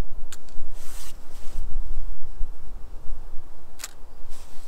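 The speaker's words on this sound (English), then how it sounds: "when I press the shutter now the mirror will flip up, count down a few seconds, and once the timer expires it will take the shot" Nikon FE film camera firing at a 30th of a second after its self-timer with the mirror locked up: two soft mechanical clicks several seconds apart, close and quiet over a steady background hiss.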